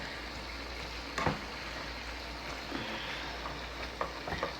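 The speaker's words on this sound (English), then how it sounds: "Make sure y'all fry them in oil first." Peppers and onions fry in oil, a steady close sizzle with a few soft clinks of stirring, with no voices.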